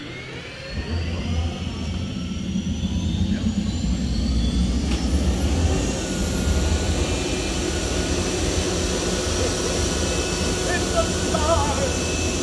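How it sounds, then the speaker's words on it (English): The gas turbine engine of a 1963 Chrysler Turbine car runs with a loud, steady whooshing roar and a rising high-pitched whine, close by and continuous throughout. "The distinctive whooshing sound of the turbine engine is unmistakable."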